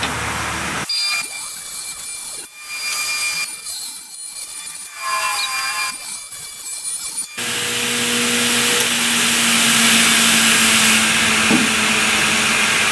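A power saw cuts wood for a DIY shop stool, with a few short bursts early on, then a loud, sustained whine of the blade running and cutting close by.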